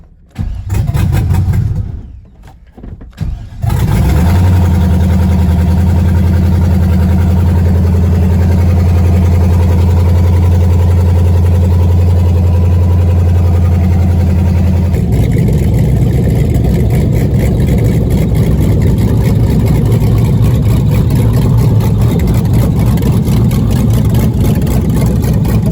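A junkyard-pulled LS V8 in a 2001 Camaro SS turbo build cranks with a short whirring starter burst, catches, and settles into a loud, steady close-up idle that roughens slightly partway through.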